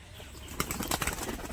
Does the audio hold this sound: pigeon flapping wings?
yes